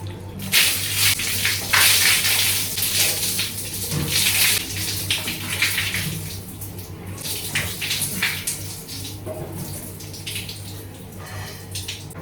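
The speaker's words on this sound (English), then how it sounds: "you're going to wash it with cold water" Cold tap water runs steadily while a hair mask is rinsed out of the hair, a continuous splashing wash with small bursts and drips, close by and alone with no talk.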